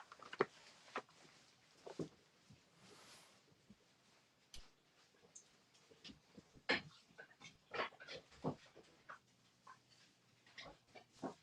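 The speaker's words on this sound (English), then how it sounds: "I gotta let my dog out, who is really scraping at the door" A dog at a door makes irregular scratching and scraping bursts, mixed with panting and soft whimpers, fairly close indoors.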